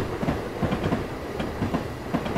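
Train passing in the railway game Train Simulator 2015: a rumbling wagon roll with rhythmic clickety-clack of wheels over rail joints, moderately close and steady, with no voices.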